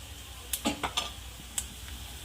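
Red chilli powder and turmeric dropped into hot oil tempering with curry leaves on low heat, a few short crackles and utensil clicks over a faint steady sizzle, close by.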